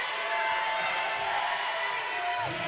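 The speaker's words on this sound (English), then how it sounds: "It's a noisy crowd here in Sheffield today" A noisy crowd fills an indoor arena at a wheelchair basketball league final in Sheffield, a steady wash of chatter, shouts and cheers, with a commentator speaking over it.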